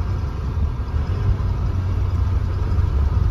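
A 2013 International TerraStar truck engine runs smoothly with a steady low rumble and constant droning hum, close and even throughout without voices.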